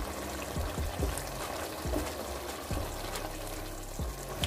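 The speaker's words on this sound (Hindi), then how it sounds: "और चनों को अच्छे से भून लेंगे" Chickpeas frying in a pan with turmeric, ginger and spices, giving a steady dense sizzle and crackle with occasional soft knocks from stirring, close and continuous.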